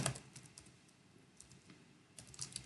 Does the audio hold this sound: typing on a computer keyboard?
yes